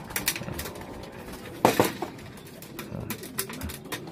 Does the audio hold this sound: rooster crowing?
no